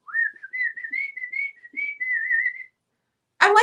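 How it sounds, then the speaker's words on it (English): A person whistles a wavering, sliding tune in short phrases nearby, then stops; a brief voice sound follows after a pause. "I can whistle."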